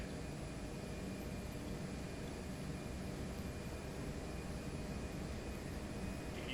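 Simulated Embraer E190 jet engines at takeoff thrust in a flight simulator, a steady, quiet broadband roar that holds even throughout, with no voices.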